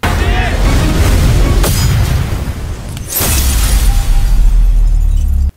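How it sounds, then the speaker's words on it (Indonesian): Animated cannon fire shatters a fortress: loud, sustained blasts and crashing debris fill the clip, with a brief dip near the middle before another heavy explosive roar takes over. "memerintahkan serangan meriam singa sekali lagi sehingga benteng kuning misterius hancur berkeping-keping"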